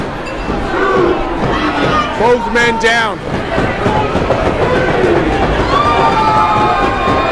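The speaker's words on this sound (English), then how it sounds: "Crowd urging both guys to get to their feet" A sold-out crowd at Longboat Hall roars and cheers steadily through a wrestling show, a dense, loud wall of voices with chants rising, while a commentator speaks over it.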